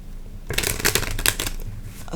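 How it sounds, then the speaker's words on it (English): A quick riffle shuffle of a tarot deck, a loud close flurry of rapid card flutters lasting over a second after a quiet start, then settling, with no talking. "Let's just give this a quick shuffle as well."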